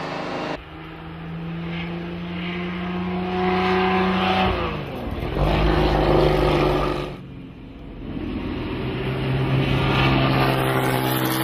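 A loud classic Jaguar XJ13 racing car engine roars and rises in pitch, dips briefly as gears shift, then climbs again, droning steadily throughout.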